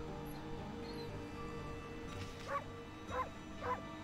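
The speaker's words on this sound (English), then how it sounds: "You can just stand there and bark for an hour." A dog in the Okami video game gives three short, faint yipping barks spaced about half a second apart near the end, over quiet background game music.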